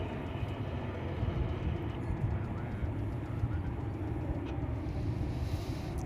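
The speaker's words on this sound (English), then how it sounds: "Here comes an A319 from Oaxaca" An Airbus A319 airliner arriving at Dallas/Fort Worth Airport, a low, steady rumbling roar heard from a distance, fairly faint and continuous with no talking.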